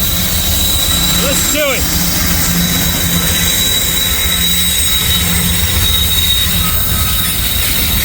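A freight train's DPU locomotive climbs a steep hill at full power, a loud, continuous roaring drone with wheel squeal and a brief rising whine, while a person talks briefly nearby.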